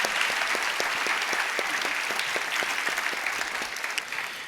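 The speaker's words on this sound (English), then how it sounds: "give Natalia a round of applause again for what she's done" Sustained applause from a conference audience at the WASOG 2023 Congress welcome session fills the room with dense, steady clapping that tapers slightly near the end, with no voices over it.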